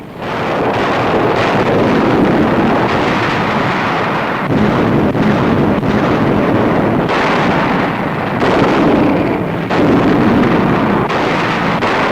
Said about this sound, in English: Some bearing artillery and rocket guns already opening fire.